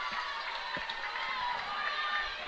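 A high school football crowd at an Oak Grove Panthers versus Odessa Bulldogs game roars and cheers in a continuous distant wash, with scattered shouts rising from the stands.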